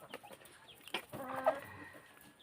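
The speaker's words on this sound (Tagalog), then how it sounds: "Yung poultry natin." Chickens clucking and fussing close by, a few short squawks and low murmurs in a quiet farmyard.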